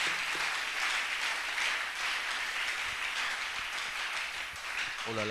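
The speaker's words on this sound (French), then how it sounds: "On acclame beaucoup très très fort." Church audience applauding and cheering loudly, a dense steady roar of clapping sustained throughout with no pauses.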